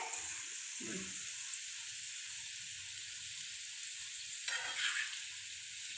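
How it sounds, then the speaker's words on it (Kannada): Okra deep frying in hot oil gives a steady, fairly soft sizzle with a couple of brief louder bursts of bubbling, continuous throughout and free of talk. "ಇದನ್ನ ಒಂದು ಸ್ವಲ್ಪ ಒಂದು 5 ಮಿನಿಟ್ಸ್ ಅದು ಚೆನ್ನಾಗಿ ಡೀಪ್ ಫ್ರೈ ಮಾಡಬೇಕು"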